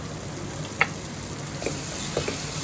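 Eggplant and vangibath spice powder fry in a pan, giving a soft continuous sizzle with a few faint stirring clinks, close and on its own.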